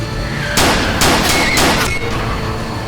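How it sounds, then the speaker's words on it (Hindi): Several loud gunshots ring out in close succession during a car chase, sharp blasts in quick bursts with no talk over them. "तुम पे गोली चली है क्या?"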